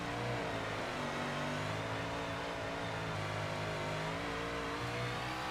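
A sprint car engine in World of Outlaws 24 holds a steady, droning rev at high pitch, its tone rising and falling slightly as the car circles the dirt track, continuous and fairly loud with no talk.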